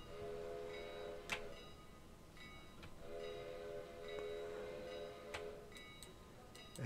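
A steam locomotive whistle in the railroad game Railroader sounds twice as faint tonal blasts over a low, steady rumble, with light ticking between the blasts.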